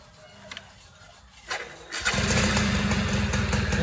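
A 1966 Honda motorcycle with new ignition parts is kicked and starts up, a few short mechanical clicks followed by the engine catching and settling into a loud, steady running idle close by.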